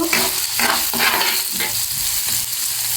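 Onion, garlic and raw cumin seeds frying in oil in a pan on the stove, a loud continuous sizzle broken by rhythmic stirring scrapes about twice a second, close and with no voices.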